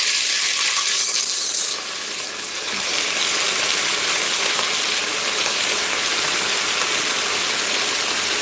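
Ground meat for a Bolognese hits a hot pan and sizzles steadily at close range: a dense, hissing fry that rises sharply at the start and then holds at a constant level with no talking.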